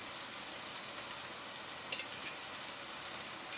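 Diced onions frying in a pot of turkey jalfrezi curry, a faint steady sizzle and crackle with soft popping throughout, quiet and close with no talking.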